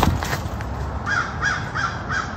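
Crows caw outdoors in a park, a series of four evenly spaced harsh calls from a moderate distance over a steady background of wind and ambient noise, with no talking.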